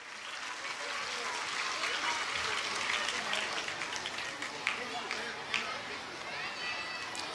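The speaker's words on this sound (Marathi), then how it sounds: "सर्व टीमसाठी एकदा जोरदार टाळ्या होऊन जाऊ द्या." Sustained applause from an audience at a school annual gathering and prize distribution ceremony in Thane, steady and fairly loud throughout, with crowd chatter and a few sharper claps standing out.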